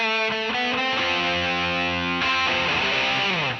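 A heavily distorted electric guitar plays sustained, crunchy power chords with a thick, saturated rock tone, then a sliding bend near the end.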